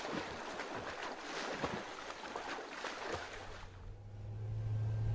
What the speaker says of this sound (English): This outboard motor is awful noisy.